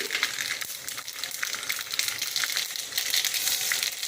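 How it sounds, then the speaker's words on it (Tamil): Mustard seeds sizzle in hot oil for a Tamil temple-style puliyodharai tamarind rice, a steady bright crackle and spatter that stays close and even throughout with no talk. "எண்ணெய் சூடாக இருக்குது கடுகு"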